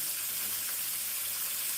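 Traditional spinach frying in oil gives a steady, soft broadband sizzle that runs evenly throughout without any pauses, close to the pan and fairly quiet, with no talking.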